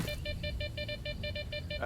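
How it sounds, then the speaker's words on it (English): Rapid electronic beeping pulses from an anomaly detector in Arma 3, in a steady, quick rhythm, fairly faint, over a low hum. "And we hear some beeping."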